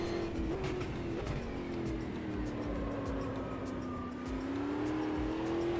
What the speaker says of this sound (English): The car sounds good though. The tyre sounds good.